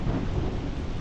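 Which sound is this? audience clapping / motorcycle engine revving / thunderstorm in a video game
thunderstorm in a video game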